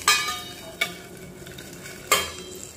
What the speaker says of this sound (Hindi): तो यहाँ पर हम दाल में तड़का लगा देंगे।